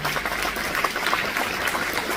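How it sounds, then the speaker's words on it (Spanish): An audience at an obstetrics congress in Paraguay applauds, a dense, even patter of many hands clapping, steady and moderately loud for a couple of seconds. "Para ellos pido un fuerte aplauso"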